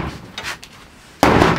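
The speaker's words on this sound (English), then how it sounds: "I'm gonna bust through some walls." Demolition of a camper door being busted through, a few sharp knocks and cracking hits followed by a loud, close burst of splintering impact at the end.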